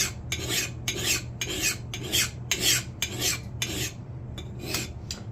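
Hand file sharpening the bevel of an axe head, rhythmic rasping strokes repeated about ten times in a steady back-and-forth pattern, close and crisp with no talking.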